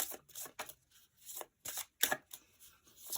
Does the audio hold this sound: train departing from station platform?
no